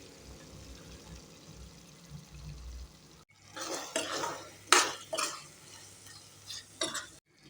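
A utensil stirs baby corn Manchurian through sauce in a pan, starting with a quiet low simmer and then giving way to several distinct scraping, clinking strokes with a soft sizzle underneath.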